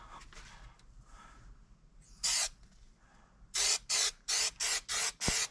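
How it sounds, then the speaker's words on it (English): Short hissing bursts from an aerosol can of spray adhesive for laying carpet in a GMC Sonoma, one early blast followed by five rapid, evenly spaced sprays, close and loud. "now I'm gonna start spraying this stuff so we can get this carpet in"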